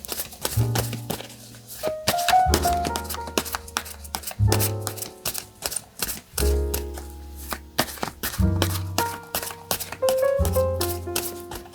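Tarot cards are shuffled and drawn by hand in a series of crisp riffles and soft slaps, close and quiet, with soft background music playing underneath.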